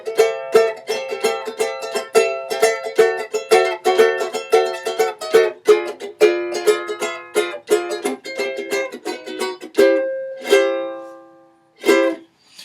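Plucked riff on a custom cedar-top ukulele, a Waikiki Shepherd (Choral C6) exercise: bright strummed and picked notes in a steady rhythm, close and clear, ending with a few ringing chords and a final sustained strum.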